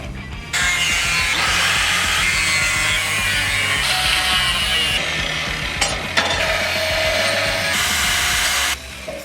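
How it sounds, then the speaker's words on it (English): A power tool saws steel to cut out the shape of a homemade open box-end wrench. The cutting is loud, harsh and steady and runs for about eight seconds with small pauses. It is heard alone, with no voices. "We are going to cut the wrench shape out"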